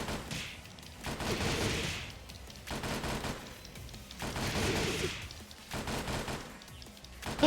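A green gun fires in Tekken 7 in sustained bursts of rapid shots. The bursts rise and fall in loudness, with short pauses between them.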